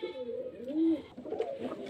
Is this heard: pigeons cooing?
yes